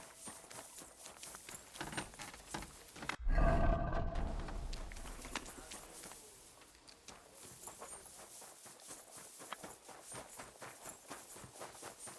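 Horse hooves clip-clop at a walking pace in the medieval game Kingdom Come: Deliverance II. A burst of louder rumbling noise cuts in early, then the steady hoofbeats carry on alone.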